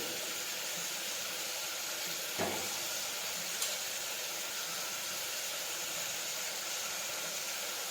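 Cumin seeds sizzle in hot oil, a steady, even frying hiss that holds throughout, with one or two small clicks and no voices.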